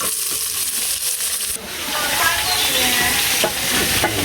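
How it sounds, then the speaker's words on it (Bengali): Native bottle gourd fries in fish oil, a loud, close sizzle with steady stirring and scraping in the pan throughout. "এখন এই যে দেশি লাউ গুনে দিয়ে দিলাম।"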